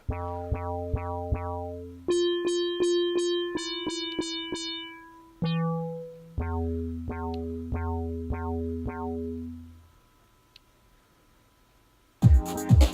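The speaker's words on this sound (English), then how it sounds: "This bass line here called Deep Womp." A synth bass preset named Deep Womp, played on a keyboard in a music production program: a run of clean, punchy synthetic bass notes in varying pitches and rhythms, loud and dry, ending in a brief burst of noise.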